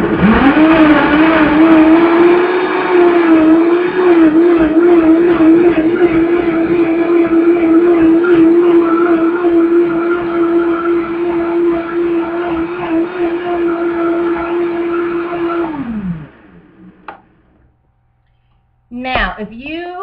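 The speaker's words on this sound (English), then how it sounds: "it just took about 30 seconds to blend all of those ingredients" A countertop blender whirs loudly and steadily for about fifteen seconds, pureeing a smoothie of almond milk and greens, then winds down and stops; a brief clatter follows after a short silence.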